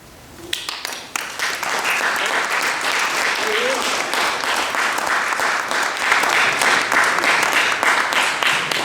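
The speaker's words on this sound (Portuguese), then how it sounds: "Não se cansem muito a bater palmas, eu agradeço" Audience applause after a poem reading at a book talk, starting with a few scattered claps and quickly swelling into sustained, loud clapping from a full room that continues steadily to the end.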